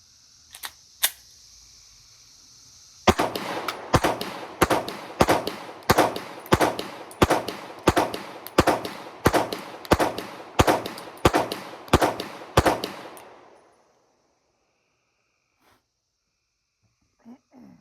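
A Smith & Wesson M&P Compact Optics Ready pistol with a Vortex Defender ST sight fires a string of about sixteen sharp shots in steady rapid rhythm, loud and close, followed by quiet.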